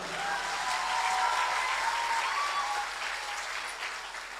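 An audience at a televised singing contest grand final applauds, a dense, steady clapping that swells slightly and then eases off, with no talk heard over it.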